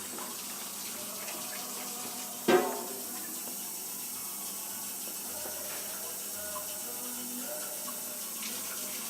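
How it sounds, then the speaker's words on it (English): Water runs steadily from a tap into a blender of chilies for tamales, a soft continuous hiss marked by one small clunk early on. "So now I'm going to put some water in here."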